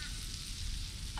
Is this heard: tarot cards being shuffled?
no